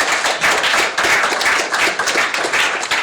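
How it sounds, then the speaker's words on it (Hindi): Loud, close applause from an audience welcoming a poet onto the stage at a Hindi poetry gathering, energetic and dense clapping in uneven surges with no talk. "एक बार जोरदार तालियों से मंच पर स्वागत करती हूँ"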